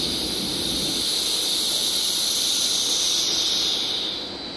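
A medical vacuum suction device vents, giving a loud, continuous high-pitched hiss and squeal of rushing air that holds steady, then tapers off slightly at the end, with no talking.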